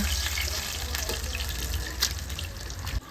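Water pours steadily in a roadside snack shop kitchen where vada and bajji are made, a continuous close gushing splash lasting about three seconds before cutting off.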